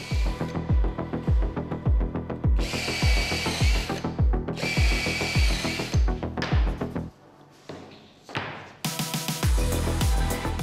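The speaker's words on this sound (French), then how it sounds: "Dans la première latte, prépercez vos trous." A power drill pre-drills holes in a wooden lath, giving a rapid rhythmic thumping under a whirring motor, with higher-pitched bursts as the bit bites, near and steady.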